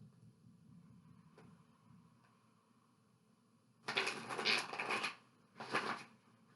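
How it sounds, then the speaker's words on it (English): Tarot cards shuffled on a lap, a dense papery riffling burst of about a second followed by a shorter second burst, close and fairly loud against quiet room background. "We're going one more shuffle."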